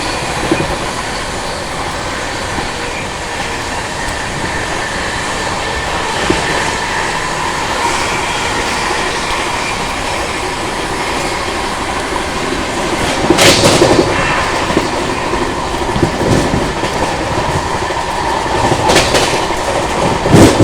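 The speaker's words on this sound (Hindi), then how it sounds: "अभी फतेहपुर रेलवे स्टेशन स्किप किया अपनी महाबोधि एक्सप्रेस ने" The Mahabodhi Express rolling past Fatehpur railway station, heard from inside a 2nd AC coach as a steady rumble with clickety-clack of wheels over rail joints and a few sharp bursts of clatter at points.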